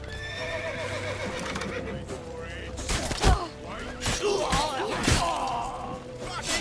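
Horses neigh and whinny loudly in The Witcher 3, with hooves thudding and clopping during a frantic escape scene; several whinnies rise over a busy game soundtrack.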